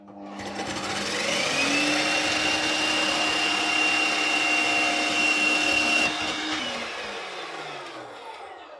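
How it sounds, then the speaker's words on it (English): Electric food processor shredding carrots, a steady loud whine with a sustained motor pitch that runs for about six seconds before winding down, with no talking over it. "we're going to be grating carrots using the machine"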